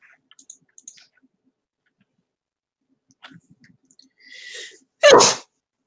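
A single loud, close sneeze bursts out near the end during a tabletop role-playing game session, preceded by a few faint scattered clicks and near silence.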